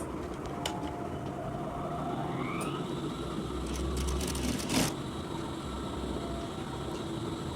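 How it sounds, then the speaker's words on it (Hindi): A sewing machine runs steadily, stitching the folded edge hem of a shalwar trouser, a fairly quiet, continuous whirring with a few brief clicks and no talking. "ये हमने किनारी की सिलाई लगा ली है।"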